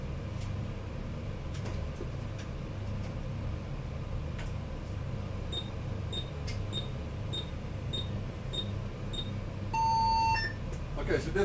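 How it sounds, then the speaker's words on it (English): A ZX Spectrum 48K with a diagnostic card fitted emits short, evenly spaced beeps over a steady background hum, then a longer, louder tone near the end. "we should get some beeping"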